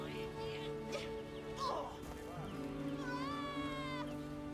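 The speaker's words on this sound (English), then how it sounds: "I just hear my cat in the background go," A house cat meows loudly in a drawn-out, wavering wail with a shorter cry before it, heard in a room over steady game audio.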